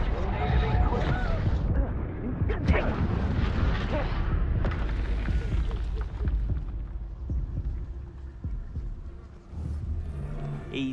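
Reducto spell blasts and other magical combat in a Harry Potter video game, with booming impacts and rumbling bursts over shouted dialogue, loud early and fading into quieter ambience later.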